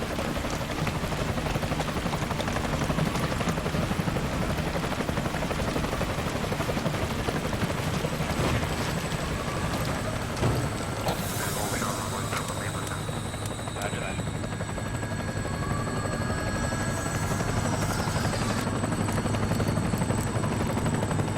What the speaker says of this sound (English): Alright, let's spin it up. Get the helicopter going.